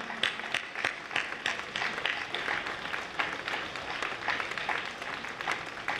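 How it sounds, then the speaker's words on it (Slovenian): Audience applause at an outdoor pro-life march, a steady patter of many hands clapping at moderate volume for about six seconds, with no voices over it. "Kar zaploskamo."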